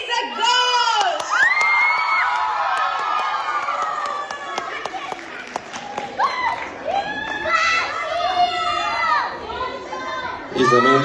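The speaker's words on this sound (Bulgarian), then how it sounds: "Бурни аплодисменти за Гош!" A studio audience cheers and shouts loudly for a returning guest on a Bulgarian talk show, a dense crowd roar with whoops and high excited voices that holds steady for about eleven seconds, swelling again at the end.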